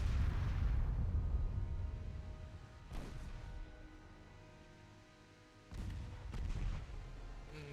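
Heavy naval guns firing in the Ultimate Admiral Dreadnoughts warship game: a loud opening boom with a long rumbling tail, then a softer report near three seconds and another heavy blast near six seconds, spaced irregularly.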